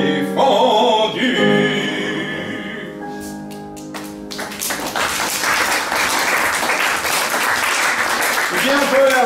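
An audience at a lecture on the Quatre Barbus quartet applauds a singer; after the tail of sung music and a few taps, dense clapping rises and holds steady, with a voice briefly heard near the end.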